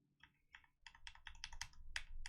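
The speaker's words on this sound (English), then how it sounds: "I'll make my brush a little bit smaller using my bracket keys" Computer keyboard keys tapped in quick, uneven succession, close and fairly quiet, with a dozen or so clicks over a couple of seconds.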